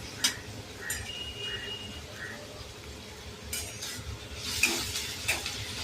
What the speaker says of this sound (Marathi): आता हे आपल्याला छान परतून घ्यायचं